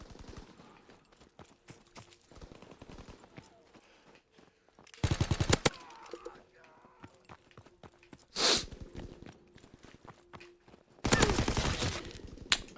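Gunfire in the video game Call of Duty WW2: dense rapid bursts of automatic fire come in three loud clusters, separated by quieter stretches of scattered shots and footsteps.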